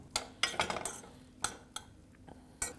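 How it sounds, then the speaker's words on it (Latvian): A spoon stirs diced potatoes and thyme in a pot for porcini mushroom soup, making a sparse run of close metallic clinks and scrapes against the pot with quiet gaps between strokes. "Visu apmaisām un tos kartupeļus vēl kādas minūtes"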